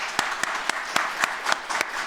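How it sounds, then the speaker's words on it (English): A graduation ceremony audience claps in a sparse, rhythmic pattern, with separate sharp claps standing out over a steady wash of applause that carries on throughout. "a round of applause to all of you"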